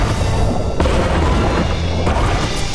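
Water cannons fire during a video game race, loud booming bursts over a dense, steady roar, with sharp hits at regular moments and no speech.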